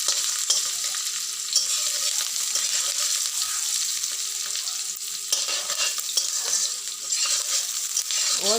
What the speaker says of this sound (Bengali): ডিমটাও ভাজা হোক, পেঁয়াজটাও ভাজা হোক।